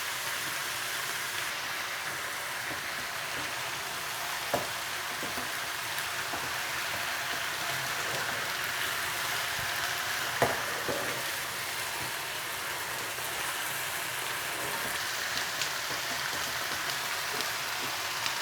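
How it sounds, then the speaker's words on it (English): Satay madras curry sizzles in a wok as a steady, moderately loud hiss throughout, with a couple of faint taps as it is shovelled and the wok is moved. "I just shovel it over and move the wok round. Like so. And let that cook for a few moments."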